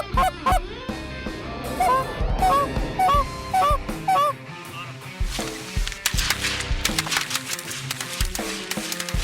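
Canada geese honk repeatedly, close and loud, during a waterfowl hunt over decoys, the calls overlapping in a busy chorus with sharp clattering bursts.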